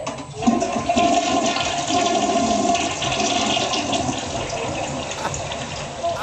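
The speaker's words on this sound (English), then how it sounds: "Around the bowl and down the hole. Flush them all out." A toilet flushes loudly and close by, one continuous rushing swirl of water that holds steady for several seconds with faint background sounds beneath it.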